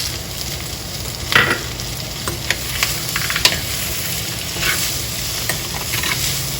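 Cashews going into eggplant moju sizzling in a hot pan, a steady close fry with scattered stirring scrapes and light clicks over the continuous hiss, no speech.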